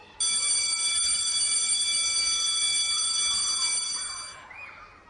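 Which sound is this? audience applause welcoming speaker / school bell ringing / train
school bell ringing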